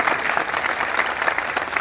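An audience at a political rally claps in a short, steady burst of applause, fairly close and continuous.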